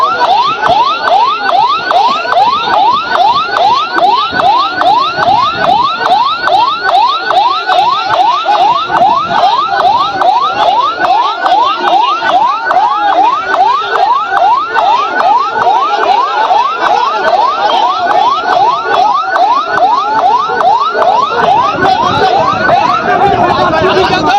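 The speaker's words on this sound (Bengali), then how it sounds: "আমরা দেখতে পাচ্ছি ফায়ার সার্ভিসের গাড়ি এই মুহূর্তে এসে পৌঁছেছে ঘটনাস্থলে" A fire engine's loud wailing siren cycles rapidly up and down in steady sweeps as it arrives at a road accident on the Sylhet–Tamabil road, continuous throughout, with crowd noise and shouting underneath.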